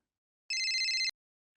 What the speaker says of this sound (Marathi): हे बघ, भिडेचा फोन आहे.